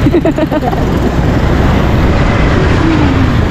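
A car overtakes on a Philippine road, its engine and tire roar loud and close as it rushes past, with a steady broadband traffic wash throughout.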